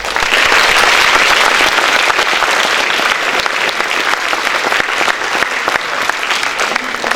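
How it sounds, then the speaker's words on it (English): Loud, sustained applause from a high school audience in an assembly, many hands clapping at once in a thick, steady roar that never lets up across the whole stretch. "Give yourselves a round of applause."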